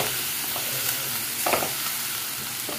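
Spinach and capsicum with turmeric, red chilli and coriander powder are stirred in a sizzling pan, a continuous hiss under a few scraping strokes of the spoon, close and moderately loud.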